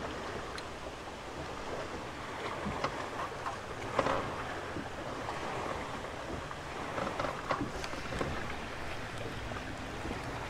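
High wind buffets an open spot during fishing, making a steady, rushing roar close to the mic with gusty surges and occasional bumps, and no voices.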